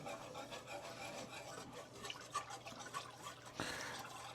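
Milk at a rolling boil in a pot being stirred for nacho cheese, giving a steady close bubbling and scraping rasp throughout, with one sharper knock near the end.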